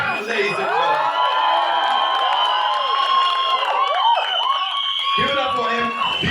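Crowd cheering and whistling for Sanjay Dutt at a trailer launch in a mall, a dense, loud, continuous roar with sharp whistles and shouts running throughout, voices mixed in.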